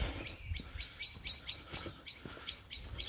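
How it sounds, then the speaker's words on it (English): Faint birds chirping near a river, a steady series of short high tweets repeating at an even pace over quiet outdoor background noise. "some sounds of the birds."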